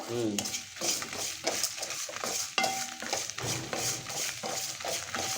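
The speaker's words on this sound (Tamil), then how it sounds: "வெங்காயம் எல்லாம் நல்லா வதங்கி வறுக்கணும்" Onions fry and are stirred in a pan for a spicy Tamil onion chutney, with a soft sizzle under repeated scraping and clinking strokes of a metal spoon at a steady rhythm, close and moderately quiet.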